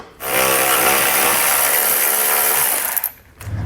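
A power tool whirs steadily for about three seconds while it removes 10mm bolts from the top of a 2022 Chevrolet during a base plate install, then cuts off with a short rattle.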